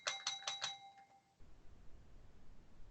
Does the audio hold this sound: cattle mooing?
no